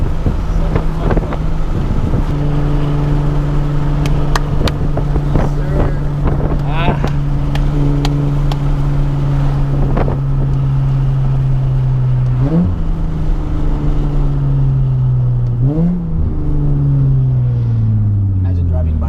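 A Nissan 370Z with a loud exhaust drones steadily while cruising, then rises in pitch through gear changes, heard loudly from inside the car over wind noise.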